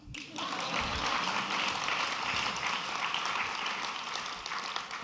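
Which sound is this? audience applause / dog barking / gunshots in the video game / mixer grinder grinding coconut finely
audience applause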